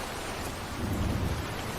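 Rain pours steadily while a low thunder rumble swells briefly in the middle, a dense, enveloping storm wash with no voices.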